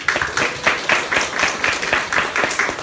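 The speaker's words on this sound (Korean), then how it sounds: "우리 목사님께 박수 한번 쳐줍시다." An audience applauds a pastor at a church book concert. The clapping is loud and close, with rhythmic, unison claps at a brisk, regular pace.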